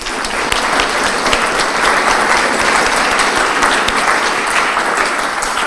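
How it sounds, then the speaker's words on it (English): Sustained applause from a conference audience at a closing session, a dense, steady wash of many hands clapping at even loudness throughout, with no talk over it. "a round of applause for them"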